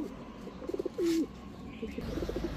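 Pigeons of Budapest, racer and highflyer giribaz breeds coo nearby in soft, throaty bursts, including one longer rolling coo, over a faint background hum.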